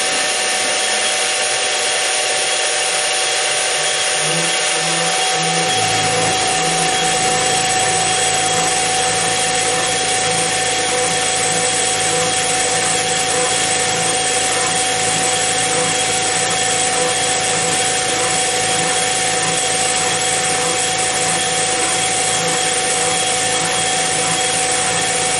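A milling machine plunge mills deep and cuts sideways, a steady high whine and grinding hum that holds for the whole stretch, with a lower growl joining after the first few seconds.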